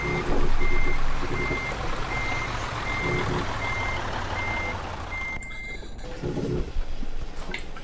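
Reversing alarm of a truck in the driving game Euro Truck Simulator 2, a steady series of evenly spaced electronic beeps over a low engine rumble, stopping partway as air and mechanical noises follow.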